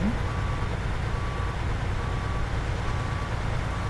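Truck in Snowrunner reversing, its backup alarm beeping at a steady interval about four times over a loud, continuous engine rumble.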